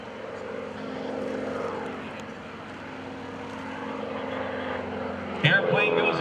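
An aerobatic propeller airplane drones steadily overhead at an airshow, its engine pitch wavering as it rolls inverted and maneuvers, with a sharp burst of louder noise near the end.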